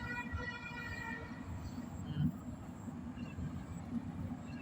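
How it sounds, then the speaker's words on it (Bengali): A train passes at a distance, its low rolling rumble steady throughout, with a faint drawn-out horn-like tone early on; the whole scene sounds quiet and far off. "ট্রেন চলে এসেছে"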